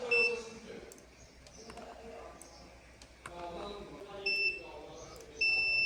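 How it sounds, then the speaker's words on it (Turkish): A digital multimeter set to continuity buzzer mode during circuit board repair, probing switching MOSFETs and a fuse: short, thin, high-pitched beeps sound quietly in a few separate bursts against a low room background, with the last tone held longer. "Ölçü aletimizi buzzer konumuna alalım."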